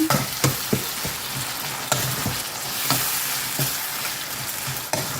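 Tomatoes sautéing in a pan for a tamarind-free mango sambar give a steady, close sizzle broken by sharp scrapes and taps of stirring at irregular intervals, with no voices.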